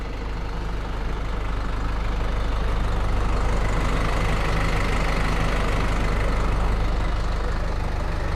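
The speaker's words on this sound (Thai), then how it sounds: "เสียงเครื่องดังนิ่ม มาก เลยนะครับ รถ ใหม่" A new pickup truck engine idling steadily, a deep continuous rumble with a slight knocking texture, loud and close, no voices.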